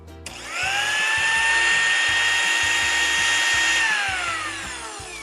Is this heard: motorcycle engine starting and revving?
no